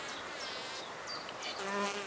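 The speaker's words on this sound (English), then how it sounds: "We have a mason bee" Mason bees buzz at a nesting block beside an apple tree in spring, one of them contesting a nest hole with another. The close, steady buzz has a rising and falling pitch as they move about.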